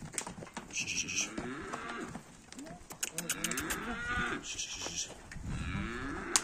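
Heifers being loaded onto a truck at a ranch moo repeatedly at close range, with deep overlapping calls over shuffling, clattering noise and a high metallic whine.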